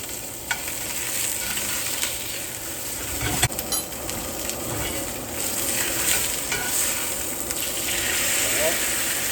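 Beef searing in a hot pan with fresh rosemary and garlic, a steady close sizzle and hiss with occasional clinks and scrapes, continuous for the whole stretch.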